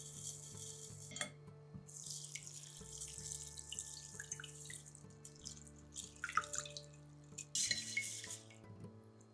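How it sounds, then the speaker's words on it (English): Running tap water splashes into a sink while rice is swished and stirred by hand during rinsing, with soft clinks; quiet and steady, with no talking. "First, you need to rinse the rice."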